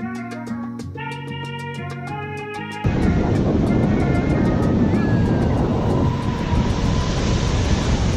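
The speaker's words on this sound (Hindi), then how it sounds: "पानी की लहरें आप देखो कितनी तेज़ स्पीड पे आ रही हैं।" Fast monsoon-season ocean waves rolling in at Calangute beach in North Goa, a loud steady roaring wash of surf that takes over after a few seconds of music, continuing without talk.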